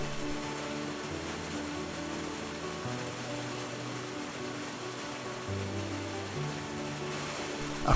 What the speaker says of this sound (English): And we visit a magical waterfall.